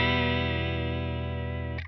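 Walrus Audio Julia analog chorus/vibrato pedal in vibrato mode with a sine-wave setting, a sustained guitar chord wavering smoothly and gradually in pitch, loud and alone before cutting off at the end.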